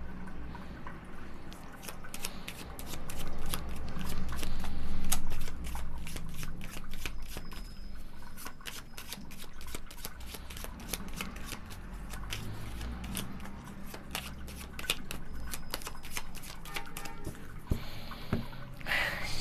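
A deck of cards is shuffled again and again, crisp rapid riffling clicks in repeated bursts, close and clear with brief pauses between.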